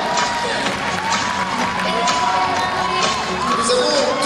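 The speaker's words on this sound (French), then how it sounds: "merci beaucoup de l'applaudir" Audience at a beauty pageant evening electing a local queen cheers, whoops and claps for a candidate, a loud lively mix of shouts and clapping with voices rising above.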